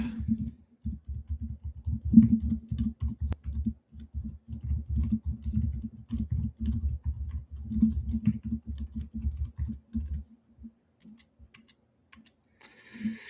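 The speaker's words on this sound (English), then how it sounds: "I will be typing my notes" Rapid typing on a computer keyboard, close and clear, with irregular bursts of clacking keys that thin out and stop near the end.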